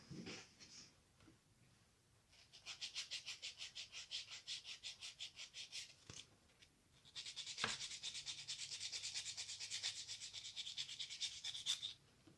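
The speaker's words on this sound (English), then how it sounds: "I will grab my nail file and I will file the other side, the underside of my side walls to make them even and straight." A nail file scraping the underside of acrylic nail side walls makes rapid rhythmic rasping strokes, close and soft, in two long bursts separated by a short pause.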